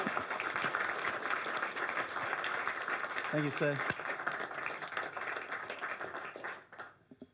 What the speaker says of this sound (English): give a huge round of applause to the funny man he is